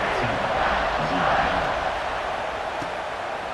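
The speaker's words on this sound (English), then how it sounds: "this crowd is buzzing after that last score" A stadium crowd in a college football video game buzzes after a score, a steady broad roar of many voices filling the space throughout, with a commentator's voice over it.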